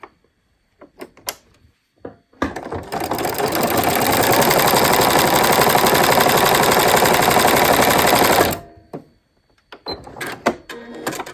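A sewing machine stitches a row on a denim quilt block, its needle chattering in a fast, steady burst lasting several seconds, framed by quieter handling clicks and taps before and after.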